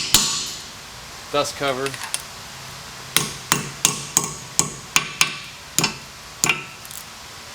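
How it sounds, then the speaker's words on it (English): A chisel being hammered to dent a dust cover on a Honda Civic or Acura Integra rear suspension, about ten sharp metallic strikes in a steady rhythm, close and loud, after a few brief spoken words. "Take a chisel, dent it in"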